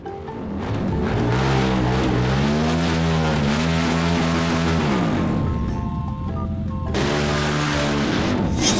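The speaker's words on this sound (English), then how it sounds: "Motorcycle." A motorcycle engine revs loudly and close, its pitch climbing and falling through several gear-like sweeps, then easing off before rising again.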